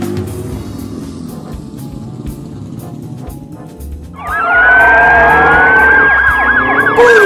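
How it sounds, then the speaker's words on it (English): A police siren wails in loud rising and falling tones, starting a few seconds in over a rumbling traffic background and continuing steadily to the end. "Police car."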